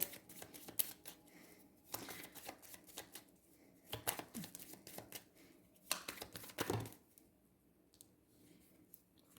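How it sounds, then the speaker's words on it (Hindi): Tarot cards slip and scatter during shuffling, giving scattered clicks and soft slaps in several separate bursts against quiet background hiss. "ये बहुत सारे कार्ड गिर गए हैं"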